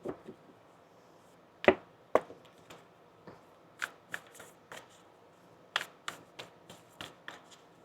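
Quiet, close riffling and snapping of a card deck being shuffled, in short irregular bursts separated by pauses.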